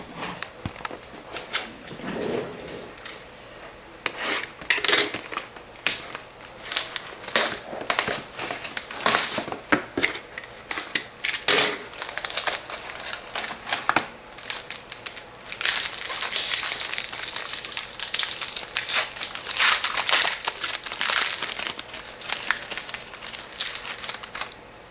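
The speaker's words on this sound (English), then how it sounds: "So we're gonna go ahead and open this ultimate box." A box of Upper Deck Ultimate hockey cards is opened and unwrapped, with a long run of close crinkling, tearing and rustling packaging, scattered sharp snaps, then a denser stretch of crumpling.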